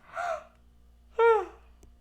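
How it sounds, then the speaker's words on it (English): A person yawns aloud, a breathy rising sound followed by a louder, voiced, drawn-out exhale, both close and with no other noise around them. "I always have to yawn during the readings"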